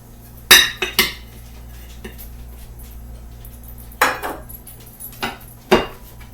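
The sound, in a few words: unmolding a cake from a metal cake pan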